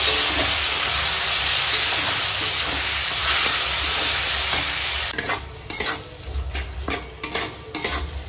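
Tomato with salt and turmeric frying in a pan for tomato chutney, a steady close sizzle and hiss that later breaks into scraping stirs and clinks of a utensil against the pan.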